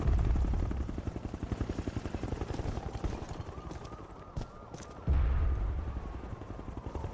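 Helicopter rotor chopping in a Ghostbusters video game, a rapid steady thump pulsing loudly through the mix, briefly dipping and thinning before returning at full strength amid game effects.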